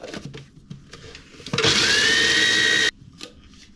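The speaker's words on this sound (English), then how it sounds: "But these are halves, so I'm gonna need to grind them." A kitchen grinder grinds nut halves, a loud steady whirring burst of about a second and a half that stops abruptly, with quieter kitchen handling noise before and after.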